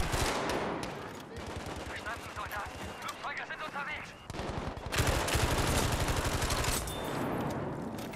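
Rapid automatic bursts from a BAR M1918A2 in Battlefield 5 multiplayer, loud rhythmic fire with brief pauses and distant battle noise mixed in.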